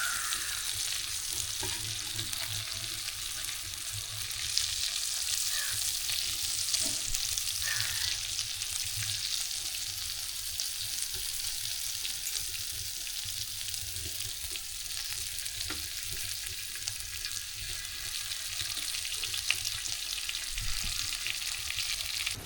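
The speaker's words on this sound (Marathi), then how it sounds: "आता मच्छी फ्राय करून घेऊ" Surmai kingfish frying in a pan on a wood-fired stove, giving a steady, dense sizzle that carries on without a break, with a few soft stirring scrapes along the way.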